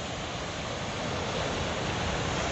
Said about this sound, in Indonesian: Di situ terjadi high tide istilahnya. Di sini ombaknya lumayan ya.